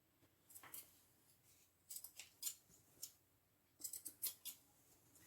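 Scissors snipping excess fabric off a sewn tote bag, in short bursts of close, crisp cuts separated by pauses, with a quiet background.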